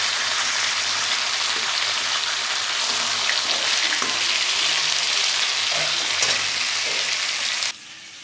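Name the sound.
fish frying in a pan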